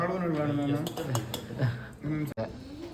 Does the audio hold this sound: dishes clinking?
yes